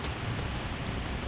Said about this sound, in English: With the rain beginning to fall